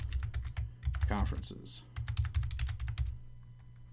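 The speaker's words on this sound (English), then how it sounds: "Yes, good typing skills." Rapid clicking of typing on a computer keyboard, a dense run of crisp keystrokes that pauses briefly while a person speaks a word, then resumes close and steady.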